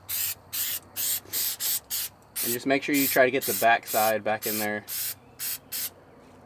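Aerosol can of Flex Seal spraying onto the pinch welds of a 4th gen Toyota 4Runner in short, loud hissing bursts, with someone talking over the middle spurts.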